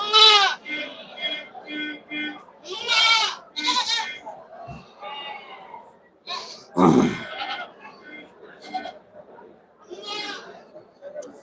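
Goats bleating repeatedly at a small village livestock market in Puthiyamputhur, Tuticorin district, Tamil Nadu, the calls loud and close, overlapping one another with someone talking among them and crowd noise behind.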